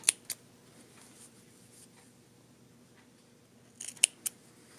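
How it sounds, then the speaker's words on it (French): Sharp scissor snips cutting a knit ribbing neckband for a raglan sweater: two quick cuts at the start, a quiet pause, then a short cluster of three or four snips near the end, close and fairly soft. "Je vais venir couper un petit peu à côté du triangle."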